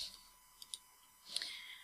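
Quiet computer mouse clicks while setting up a Google Classroom class, a few crisp isolated taps spaced apart followed by a soft rustle, otherwise near silence.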